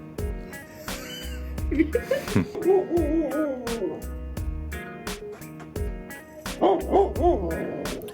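Puppies whine and yelp in high, wavering cries, close by, mixed with soft bumps and scuffling.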